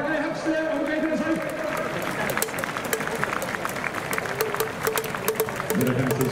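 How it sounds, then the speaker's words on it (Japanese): Stadium crowd at a baseball game applauds as a guest takes the mound for the ceremonial first pitch, a broad clatter of clapping under an announcer's amplified voice and crowd murmur. "皆さんどうぞ温かい拍手でお迎えください。"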